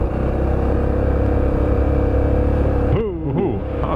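A Yamaha TT600 Belgarda motorcycle engine drones loudly and steadily while the rider accelerates on a drifting ride, then revs sharply in quick rising and falling bursts as the back wheel spins.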